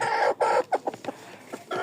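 Hens clucking in a home coop, a handful of close, short broken clucks in an uneven rhythm with brief pauses between calls.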